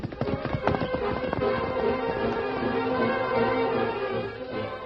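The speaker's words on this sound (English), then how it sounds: "Tonto rode out of town and headed back toward the camp where the Lone Ranger was waiting." Hoofbeats of the horse Scout clip-clopping in a steady rhythm, staged as an old-time radio western sound effect, with a brief whinny; close and continuous with no talk over it.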